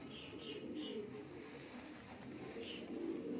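Homing pigeons, Australian and broad-shouldered birds in a loft, give a few soft cooing calls over faint background noise.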